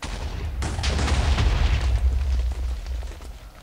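Minecraft TNT set off by a pressure plate in a proximity-bomb test world erupts in one deep, loud boom with a rumbling tail that fades over a few seconds.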